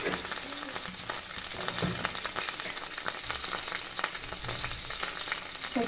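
Garlic cloves fry in hot oil for a Havyaka-style tempering, giving a steady, soft sizzle with light stirring and scraping throughout, quiet and close.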